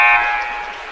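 End-of-game buzzer at a girls high school basketball game, a single loud, harsh electronic tone that sounds close and fades out over about a second.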